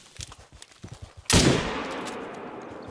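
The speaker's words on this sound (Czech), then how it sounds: "A toto byla dobrá střela" A single sharp, loud hunting rifle shot in theHunter: Call of the Wild, cracking suddenly after quiet footsteps and rustling, then rolling away in a long echoing tail across open terrain.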